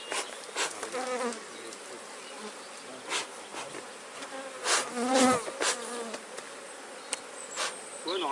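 Honeybees buzz densely around a hive frame during beekeeping queen grafting, a close, continuous drone with individual bees zipping past the microphone.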